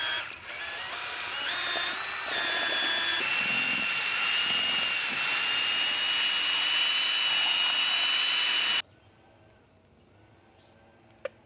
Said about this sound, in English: you mix this with your drill